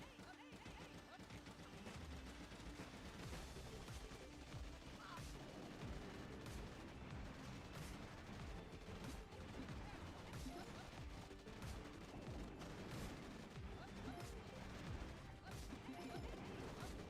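Mortar fire and other battle blasts in Boom Beach Warships come as dense, repeated booms and crashes over the whole stretch, fairly faint overall and mixed with game noise.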